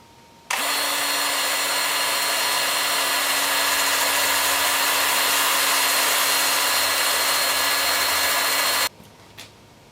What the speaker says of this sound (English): And I'll sand up this 2-inch area.